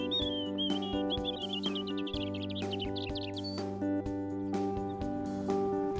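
Small birds chirp and twitter in quick bursts over a steady layered hum in a permaculture garden, fairly faint and distant.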